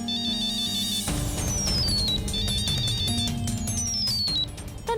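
A phone ringtone plays as a melodic electronic tune with repeating descending chimes over a busy musical backing, moderately loud and steady throughout, with no one speaking.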